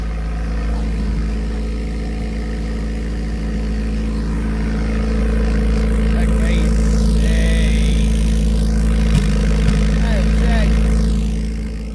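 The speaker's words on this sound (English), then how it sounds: "that's a cold start. Just gonna sit there and pop for a second" A turbocharged Honda Civic EK idles just after a cold start, with a loud, steady low engine drone throughout and a few faint irregular pops, while a person talks over it.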